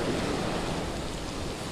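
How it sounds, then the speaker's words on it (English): Ocean waves picking up in the bay at Front Beach beneath a bridge behind a yacht club during a hurricane, a brief steady wash of surf mixed with wind noise. "Now the waves in the water here in Front Beach underneath the bridge right behind the yacht club, it's starting to pick up."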